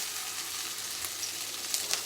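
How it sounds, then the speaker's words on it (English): Ginger garlic paste sizzles steadily in a hot wok while Mongolian meatballs are being cooked, a continuous close frying hiss with a few brief crackles and pops near the end. "I always like the sound of a sizzling wok"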